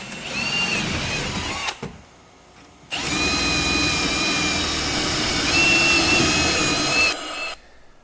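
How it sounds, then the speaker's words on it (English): Power drill with a 3/16 inch bit boring rivet holes in HDPE hatch parts on a 2016 Lund 208 GL boat, two sustained whining runs at close range separated by a short pause. "So we have our 3/16 inch bit. We'll be popping these holes in place, riveting it"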